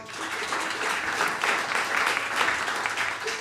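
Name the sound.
audience applause for the band member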